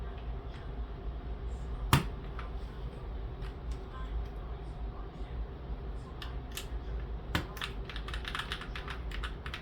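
Steady clicky typing on an NZXT Function MiniTKL mechanical keyboard with custom switches, rapid keystrokes with a couple of sharper snaps standing out, close and clear with no talking.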